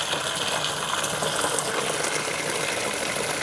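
Water gushes steadily from a pipe in a continuous hissing flow at moderate level, with no speech over it.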